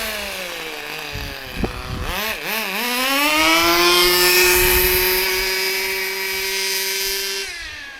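A vintage nitro Kyosho Sandmaster 1/10 2WD RC buggy engine screams at full throttle from a standing start, its pitch dipping and wobbling before climbing into a sustained high whine that holds steady, then cuts off abruptly near the end.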